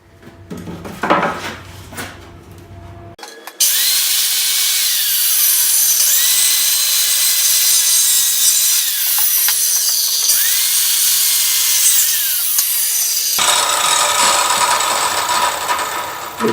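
Power tool cutting wood while building a stand for a polished rock, a loud sustained whine starting after a few seconds of quieter handling noise, running steadily with pitch shifts before easing near the end.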